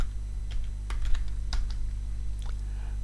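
Computer keyboard typing a short command at a command prompt, a few quick keystrokes close by over a steady low electrical hum.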